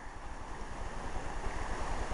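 The North Mills River in North Carolina flows at a campsite as a steady, soft, broadband wash of moving water with no voices.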